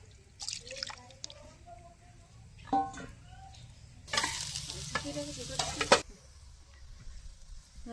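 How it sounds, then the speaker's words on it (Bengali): Bottle gourd peel and potato fry in oil, with soft intermittent sizzling, stirring clatter and a louder burst of spattering, faint and close, with a voice now and then in the background. "লাউয়ের খোসা আর আলু ভাজি।"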